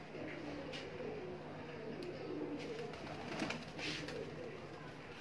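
A Kamangar breed pigeon coos softly amid faint background noise and rustling, a low murmuring call repeating quietly, with no clear speech.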